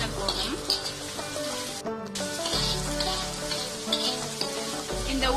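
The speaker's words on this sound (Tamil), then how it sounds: "பூண்டினுடைய பச்சை வாசனை போற வரைக்கும் நல்லா வதக்கணும்." Chopped garlic sautéing in oil for Thai-style fried rice, a steady crackling sizzle close by, with faint music-like tones running underneath throughout.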